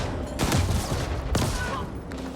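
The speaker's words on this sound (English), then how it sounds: "They weren't lying when they call it a hand cannon." Two loud hand cannon shots from the video game Ascent, each a sharp broadband blast with a short decaying tail, fired about a second apart over steady game ambience.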